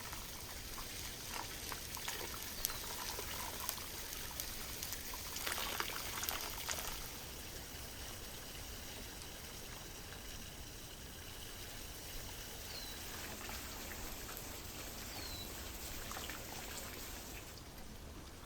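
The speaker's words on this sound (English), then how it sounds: "Next, I'm pouring hot water over the duck" Hot water pouring over a whole raw duck to prep the skin for frying, a steady splashing, trickling wash that runs on for many seconds close by, with no voices.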